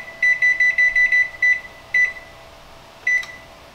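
An electronic oven timer beeping in a home kitchen: a quick run of seven short, loud beeps, then a single beep and one more a second later, over a faint steady hum.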